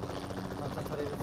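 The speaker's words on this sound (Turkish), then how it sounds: "Helikopter çatıya indirirsen alamayız belki." Helicopter rotor drone from the battle-royale game PUBG Mobile, a steady buzzing whir that holds without a break through the whole short moment, moderately loud.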